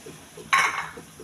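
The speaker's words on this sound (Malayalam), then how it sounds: "നന്നായിട്ടൊന്ന് ഇളക്കുക." Curry with coconut milk stirred in a pot, a single clattering scrape of a spoon against the metal, close and brief against a quiet background.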